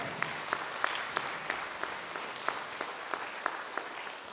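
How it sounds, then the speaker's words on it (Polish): Sparse, soft applause from a small audience at an open day of a first-level music school, scattered claps with a few sharper hits, fairly distant and steady throughout. "Brawa dla państwa!"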